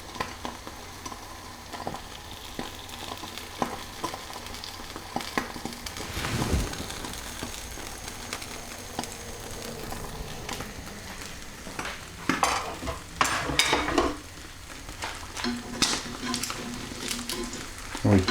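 Omelette with mature cheddar cheese cooking in a pan, soft sizzling under scattered clinks and scrapes of a utensil against the pan, fairly quiet and close, with no talk over it.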